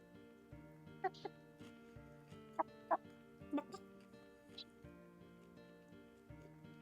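A pet chicken clucks in a few short, close bursts over steady background music, with brief louder squawks scattered through.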